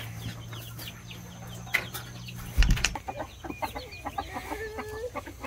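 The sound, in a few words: chickens clucking on a homestead farm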